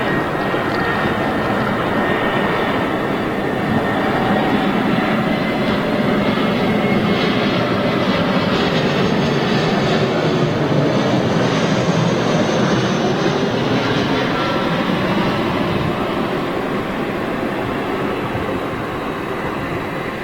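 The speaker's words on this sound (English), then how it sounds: "it's British Airways A320 towards, headed out to London" Airbus A320 in British Airways colours departing Manchester for London, a steady broadband jet roar holding loud for the full stretch with slight swelling in the middle and no voices over it.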